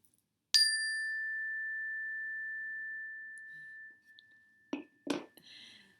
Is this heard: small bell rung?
yes